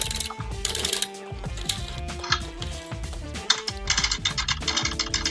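A circular sock knitting machine being cranked gives off rapid, dense mechanical clicking and ratcheting, with metal parts rattling in a busy, continuous rhythm at close range.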